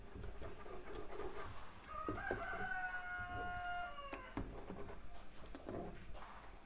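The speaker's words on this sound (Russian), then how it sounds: "Петухи мои меня приветствуют, вас приветствуют" A rooster crows once in a long drawn-out call at moderate distance, with other birds and faint farmyard clucking around it.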